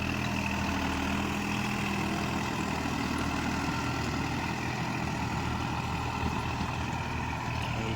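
A New Holland 5510 four-wheel-drive tractor runs steadily with a rotavator attached, giving a continuous low engine drone that holds an even level throughout, with no speech.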